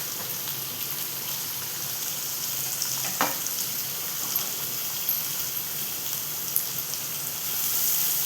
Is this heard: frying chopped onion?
yes